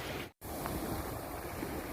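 Morning sea waves wash steadily at Ban Kut beach, a continuous hiss of surf broken once by a brief dropout.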